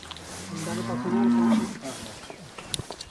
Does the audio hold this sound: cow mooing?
yes